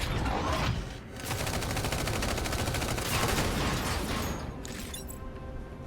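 Rapid gunfire from the mech strategy game Mecharashi, dense bursts and volleys packed close together for several seconds, loud and continuous with a brief dip near the start and a softer tail at the end.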